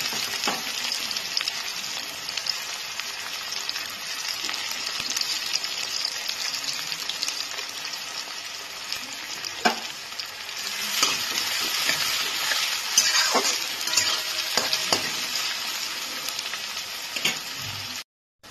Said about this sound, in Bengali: এবার আমি এর মধ্যে পেঁয়াজ কুচিগুলোকে দিয়ে দেবো।